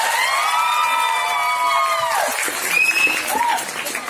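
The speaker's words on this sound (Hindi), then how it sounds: "जोरदार तालियां" Applause from a fashion show crowd, a dense patter of clapping following a long sustained tone, with some cheering over it.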